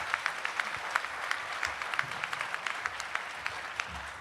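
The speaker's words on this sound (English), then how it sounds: "Let's give our students, our academic scholars, and our service award winners a warm round of applause." Warm audience applause at a faculty and staff awards ceremony honoring students and scholars, a fairly faint, steady patter of many hands clapping with distinct individual claps, no voices.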